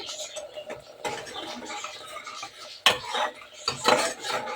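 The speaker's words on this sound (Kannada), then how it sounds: "ಚೆನ್ನಾಗಿ ಮಿಶ್ರಣ ಮಾಡ್ಕೊಳ್ಳಿ" Salt being stirred into a liver gravy roast in a pan, with scattered metal spoon clinks and scraping against the cookware, louder bursts around the middle and end, close and clear.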